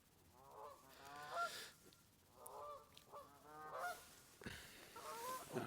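Geese honk repeatedly at a distance, several faint nasal calls arriving in clusters roughly a second apart, out in open air by fishing water.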